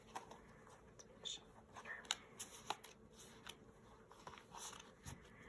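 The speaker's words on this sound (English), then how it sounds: "Fancy shuffle." Tarot cards being given a fancy shuffle, a soft close riffle of crisp flicks and slaps with light rustling, quiet and uneven in rhythm.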